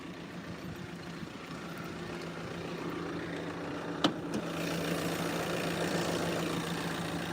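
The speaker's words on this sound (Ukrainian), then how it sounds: "Мотор працює рівно." A VW Tiguan engine idles evenly under an open hood, a steady low mechanical hum with no talk over it.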